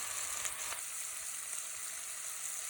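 Pancetta sizzles and spits in a hot pan, giving a soft, steady crackle with a few sharper pops near the start and no talking.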